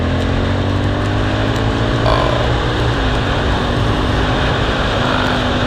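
Suzuki SV1000-S race motorcycle engine droning steadily up close with a dense, continuous roar and a brief rise in revs partway through.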